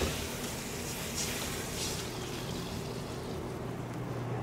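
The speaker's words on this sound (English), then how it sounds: "Now, a quick deglaze." Liquid is poured into a hot pan beside a freshly seared chop, giving a soft, steady sizzling hiss and gentle splashing that stays faint and even throughout, with no talking.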